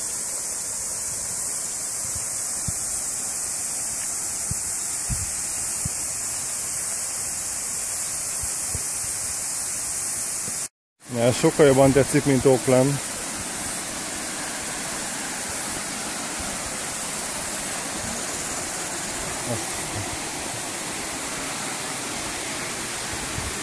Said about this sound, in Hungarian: Vízesés.